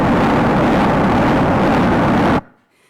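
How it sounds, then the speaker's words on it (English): Sonified cosmic microwave background sound waves come through as a loud, dense, rumbling wash of noise that holds steady for over two seconds and then cuts off abruptly. "you can take this data and actually you can turn it into a sound signal"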